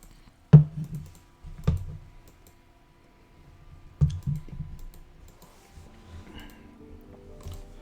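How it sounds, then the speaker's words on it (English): A computer keyboard clicks while Genshin Impact is played, with a few separate clusters of close, sharp keystrokes and quiet gaps between them. "I'm not used to playing Genshin with the keyboard at all."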